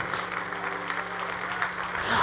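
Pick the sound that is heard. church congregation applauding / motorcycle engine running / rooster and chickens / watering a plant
church congregation applauding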